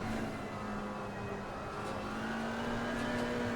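A McLaren 570S GT4 race car in iRacing or Assetto Corsa Competizione, with a rival car passing close on the left: a steady, loud engine drone with a rising pitch, continuous throughout.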